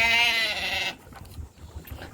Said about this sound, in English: So we have both goats and sheep.